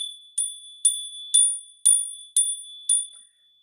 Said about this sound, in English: My bell apparently needs to ring.